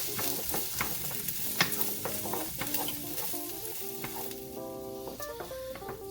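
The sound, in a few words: onion and pepper sizzling in olive oil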